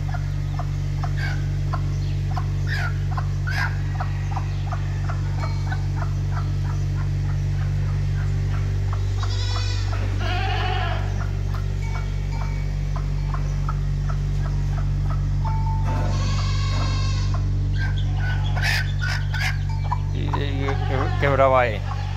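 A hen clucks softly with her chick amid a constant low hum, with faint high peeping and scattered bird calls, someone speaking briefly now and then.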